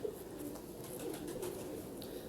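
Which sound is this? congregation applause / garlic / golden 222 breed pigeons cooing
golden 222 breed pigeons cooing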